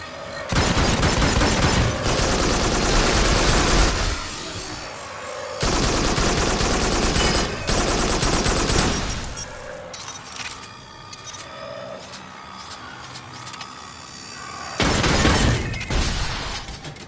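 Loud bursts of shotgun gunfire in the VR shooter Farpoint, each blast a broad crashing roar lasting a second or more, coming in clusters with quieter stretches of debris and ambient game noise between them.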